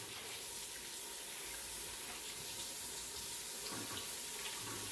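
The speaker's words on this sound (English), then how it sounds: "I like to wash my rice a couple times to drain it out before I let it soak." Room-temperature tap water runs steadily into a sink while rice is washed, a continuous faint hiss and splash with no talk.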